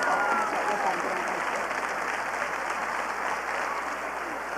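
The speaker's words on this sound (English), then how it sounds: "Stand up and clap your hands." A crowd at a charity dance competition claps and cheers, forming a dense, continuous wash of applause that holds steady at a fairly loud level throughout.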